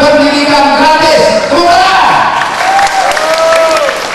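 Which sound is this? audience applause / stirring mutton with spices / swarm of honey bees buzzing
audience applause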